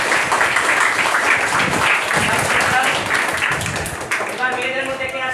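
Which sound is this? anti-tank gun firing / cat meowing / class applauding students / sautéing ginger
class applauding students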